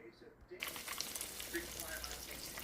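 Panko-breaded chicken pieces hit hot oil for shallow frying and break into a steady, crackling sizzle that continues close by after a brief quiet start.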